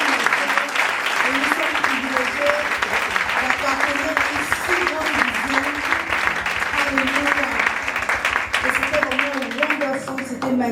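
Church congregation at a Sunday service cheering and applauding the Lord, a dense, sustained wall of clapping and voices lasting throughout, loud and close, with singing or shouting tones riding over it.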